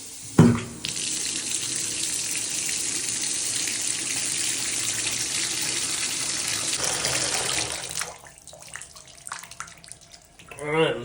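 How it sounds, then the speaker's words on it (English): Hot water gushing from a bathtub faucet into a slow-draining, clogged tub, a loud steady rush that cuts off near the end, followed by quieter room sounds. "I'm gonna turn the hot water on"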